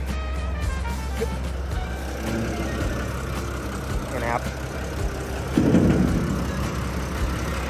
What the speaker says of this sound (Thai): เดี๋ยวเปิดเครื่องให้ดู